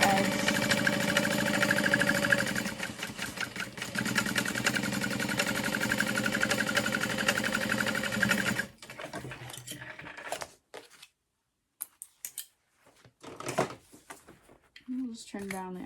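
Sewing machine basting the top edge of a fabric bag, a loud, steady fast stitching run for about nine seconds, then stopping, followed by quieter handling noises and fabric rustles.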